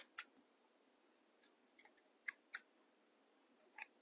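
Scissors snip crisp, quiet cuts through fabric scraps for making fabric chickens, close and intermittent, with a cluster of quick snips in the middle and a couple more at the end.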